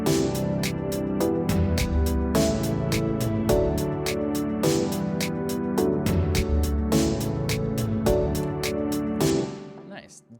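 A drum pattern in an electronic track, with the backbeat snare landing only on beat three for a halftime feel, playing under synth melody and sharp repeating hits before cutting off at the end.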